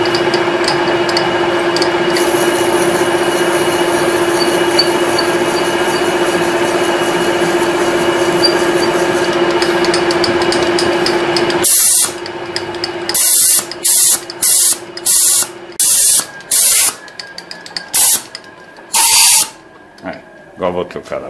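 A drill bit bores a deep hole through wood, giving a steady, loud whirring grind for about twelve seconds that then breaks into a series of short, choppy bursts with brief pauses between them.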